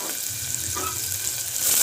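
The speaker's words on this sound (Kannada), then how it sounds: "ಈಗ ನಾವು ಈರುಳ್ಳಿ ತೊಗೊಂಡಿದ್ನಲ್ಲ ಅದನ್ನ ಸೇರಿಸ್ಕೊತೀನಿ ಇದನ್ನ ಸ್ವಲ್ಪ ಹೊತ್ತು ಎಣ್ಣೆದಲ್ಲಿ ಚೆನ್ನಾಗಿ ಫ್ರೈ ಮಾಡ್ಕೋಬೇಕು" Chopped onion fries in oil in an even, continuous sizzle close at hand, and the hiss grows a little louder near the end.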